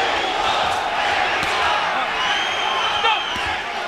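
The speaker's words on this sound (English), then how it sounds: "They're cheering Mexico." Large boxing arena crowd roaring and chanting steadily in support of Mexico and a Mexican fighter, Ramirez, a dense continuous wall of cheering with no clear breaks.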